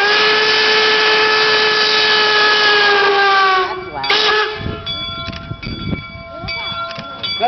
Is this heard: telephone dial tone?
no